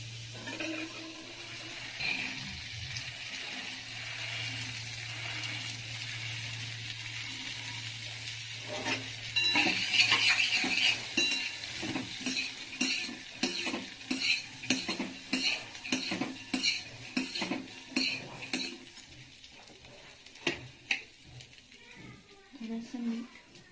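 Sprouts frying in butter in a kadhai, a low sizzle under steady talk, then a run of quick metallic scrapes and clinks from a spoon stirring against the pan.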